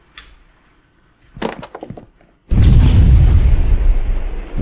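A smoke grenade in an Unreal Engine 5 demo clatters briefly as it lands, then bursts with a loud, deep whoosh that keeps hissing.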